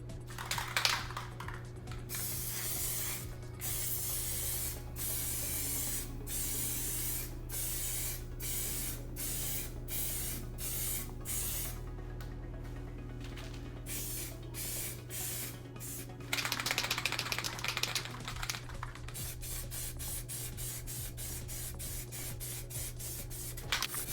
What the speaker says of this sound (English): Spray across and then past it and then let go.